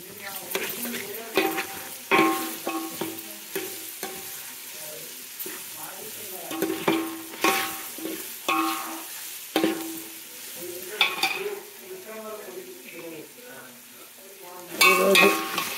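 Food fries in oil in a pan and is stirred, with soft sizzling under repeated scraping and clinking of a spoon against the pan in an irregular rhythm, all close and fairly quiet.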